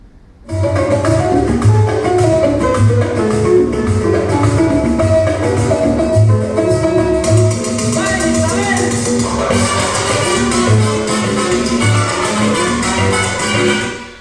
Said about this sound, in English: with that build up, that tiki tiki tiki tiki tiki tiki tiki, and then the brass instruments go mental